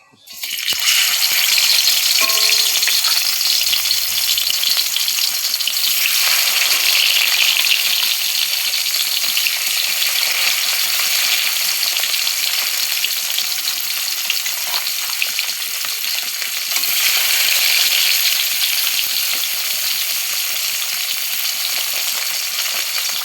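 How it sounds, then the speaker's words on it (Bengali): Fish frying in hot oil in a pan, with a loud, continuous close sizzle that stays dense and even throughout, a few small rattles near the start and no talking. "আমি মাছগুলো দিয়ে দিব"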